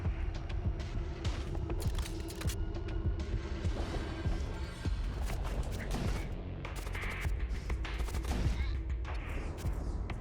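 Video-game cannon fire booms again and again in scattered loud bursts over a rumbling battle din, with a player talking through the barrage.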